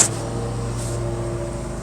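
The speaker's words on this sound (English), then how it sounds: "you have to forgive the noise there. Tammy's out mowing." A lawn mower keeps running outside, a constant low mechanical hum that stays even and moderately loud, with no voices.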